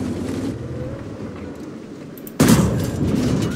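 A tank cannon round strikes its target in the World of Tanks video game, a single sharp loud impact boom that cuts in suddenly over steady engine and battle rumble, with no speech.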